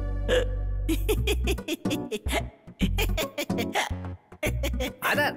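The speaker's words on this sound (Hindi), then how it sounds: "आपको हिचकी आ गई क्या?" Repeated hiccups break through a scene from a Hindi-dubbed film, sharp and close, over busy music and talking voices.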